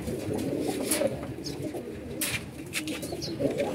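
Pet pigeons coo in a home loft, soft low throaty calls repeating close by in a steady rhythm, with a few faint chirps and flutters over light background noise.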